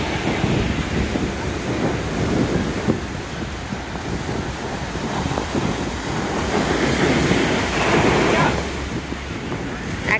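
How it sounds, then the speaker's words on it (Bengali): Ocean waves at Anjuna beach in Goa roll in as a steady, loud wash of surf, with wind buffeting the microphone throughout and no clear breaks between swells. "এটা হচ্ছে আঞ্জুনা বিচ। এখন কিন্তু জল বেশ অনেকখানি, একদম সামনে পর্যন্ত।"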